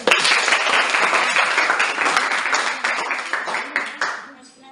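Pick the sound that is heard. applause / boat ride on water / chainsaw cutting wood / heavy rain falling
applause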